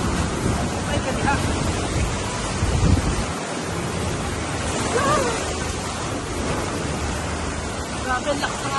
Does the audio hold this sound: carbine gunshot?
no